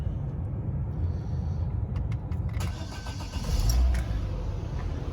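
A Vauxhall Zafira 1.6 petrol engine cranks and catches, then settles into a steady low idle with a brief swell in rumble near the end; no one speaks over it.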